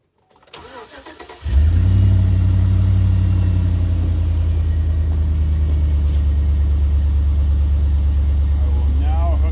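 A Ford 460 truck engine with a four-barrel carburetor and Duraspark ignition, running on the ground: brief cranking, then it catches with a loud roar and settles into a steady, deep, close idle that holds to the end.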